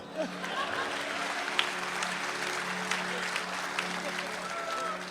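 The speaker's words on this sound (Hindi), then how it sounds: "ताली तो जोर से बजा दो।" A live Hindi poetry-recital audience breaks into steady applause that holds at an even level for about five seconds, with a faint electrical hum running underneath.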